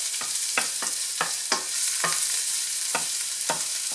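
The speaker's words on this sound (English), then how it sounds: "Saute your garlic very well, you know, to almost where it's turning golden brown." Garlic sautéing in grapeseed oil in a pan, a steady bright sizzle broken by repeated sharp stirring scrapes at irregular intervals, close and fairly loud with no voices.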